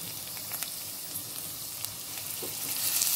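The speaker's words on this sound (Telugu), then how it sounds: "కొంచెం గోల్డెన్ బ్రౌన్ అయ్యేదాకా వేయించాలి" Thinly sliced onions with green chillies frying in a pan for semiya upma, giving a steady close sizzle and crackle with a few faint stirring scrapes, no voices.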